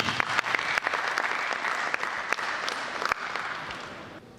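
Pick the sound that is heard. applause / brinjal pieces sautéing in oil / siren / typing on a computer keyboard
applause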